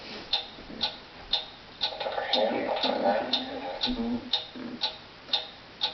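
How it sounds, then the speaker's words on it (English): A mysterious ticking noise repeats in a steady clock-like rhythm, about two ticks per second, crisp and near, while a voice speaks briefly in the middle. "What is that mysterious ticking noise?"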